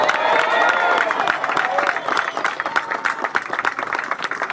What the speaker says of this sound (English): how about a round of applause for him before we get started?